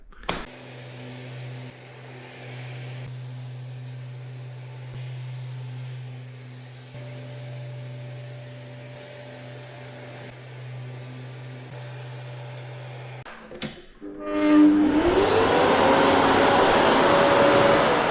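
A Festool dust extraction vacuum runs with a steady droning hum and tonal whine, cuts off abruptly with a brief clunk, then spins back up with a loud rising whine.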